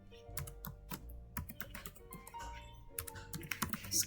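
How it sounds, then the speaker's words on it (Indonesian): Computer keyboard typing in quick, uneven bursts of close, crisp key clicks during a Linux mail server setup, with brief pauses between keystrokes. "Kalau udah, kita ketik"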